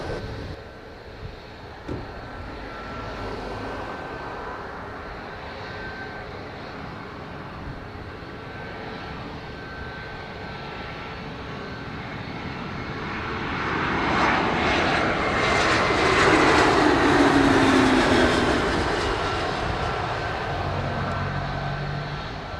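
A jet airliner rolls along runway 25 at Montego Bay, Jamaica, its engine roar steady and distant at first, then swelling louder and closer in the second half before easing slightly.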